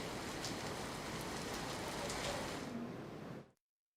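Dense, steady rain in Ahmedabad hissing over everything at full strength, then cutting off abruptly near the end.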